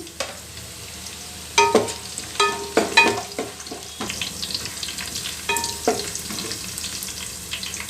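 Cashews frying in a pan for a soya curry, with scraping stirs and sharp clattering taps over a steady sizzle, the stirring coming in uneven bursts close to the mic.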